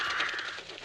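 Birds in a video game give a short burst of raspy crow-like caws, a few quick calls close together at moderate loudness, with no one talking over them.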